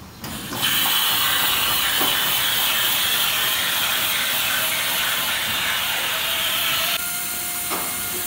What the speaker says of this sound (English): So it's kind of like a little power washer inside that cup.